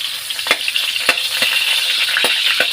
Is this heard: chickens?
no